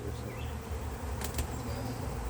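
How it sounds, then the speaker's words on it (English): Bees buzz continuously and fairly close during a beehive inspection, a dense steady drone with individual bees passing near, and no talking. "Holy cow, look at the bees."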